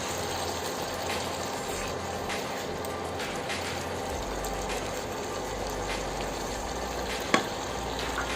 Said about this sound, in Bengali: হালকা লাড়াচাড়া করে আমি মাছটা 2-3 মিনিট কষাই নিছি।